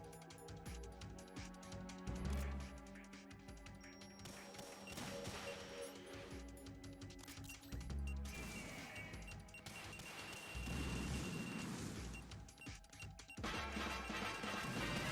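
Missile launches and explosions in a tactical espionage action video game, a dense, continuous barrage of crashes, bangs and whooshes layered over game music, loud throughout with a heavier burst near the end.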